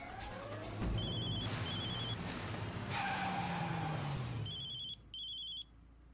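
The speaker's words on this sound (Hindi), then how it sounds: "दुग्गल साहब क्यों फोन कर रहे हैं?" An electronic phone ringtone chirps in short bursts near the end, after a stretch of loud rumbling noise and a sliding engine-like whine.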